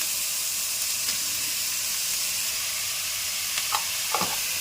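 Capsicum and cabbage sizzle and hiss steadily in a hot pan as they are stir-fried for momos, with a few scraping strokes of the spatula near the end.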